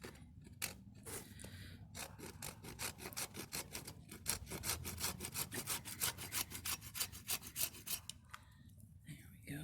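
A fatwood stick being sawn square at the end with a hand saw: a steady run of rapid, rhythmic rasping strokes, close and fairly loud, with a few brief pauses and no speech.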